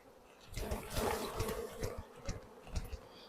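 Honey bees swarm around an opened, honey-bound hive as a frame is lifted out. Their busy, fluctuating buzz is close and clear, with sharper individual bees zipping past the microphone in quick bursts.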